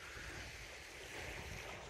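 Steady broadband wash of sea surf rolling onto a rocky shore with large stones in Malorechenskoye, Crimea, with wind buffeting the microphone throughout; no voices.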